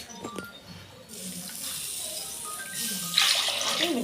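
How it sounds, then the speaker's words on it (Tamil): Water pours into a cooking pot for Tamil-style coconut milk rice, a broad steady rush that swells louder near the end, with faint kitchen clatter early on. "மீதி நம்ம தண்ணி ஊற்றிக்கலாம்."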